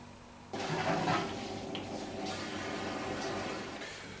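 A home washing machine pumps out the water it was still full of, a steady broadband rush of draining water that starts abruptly and continues close and moderately loud with a low hum beneath.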